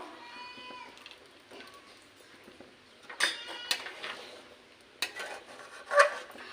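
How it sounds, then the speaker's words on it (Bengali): Spoon clinking and scraping in a pot of sabudana kheer with ghee, fried raisins, cashews and ground garam masala, a few distinct knocks standing out over quiet kitchen background, with a brief meow-like tone early on. "আর একটু আমি নাড়াচাড়া করে নেব।"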